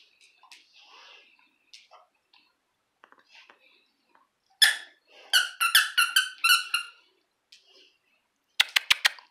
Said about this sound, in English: Was that squeaky? Oh no, it's squeaky.